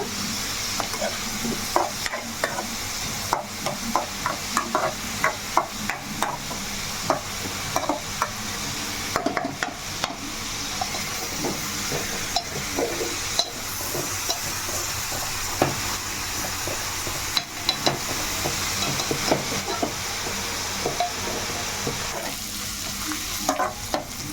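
Onions sizzling in a pan for gongura chicken curry, a moderate, continuous frying crackle with repeated scraping stir strokes and a brief quieter dip partway through, no talking.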